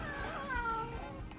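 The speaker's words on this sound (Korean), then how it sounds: "제가 말만 하면 우리 집 고양이가 한 마리가 올라와요." A house cat meows indoors, one drawn-out, rising-then-falling cry heard close and fairly soft, with no talking over it.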